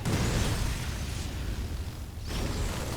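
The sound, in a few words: roach unit destroyed in StarCraft II video game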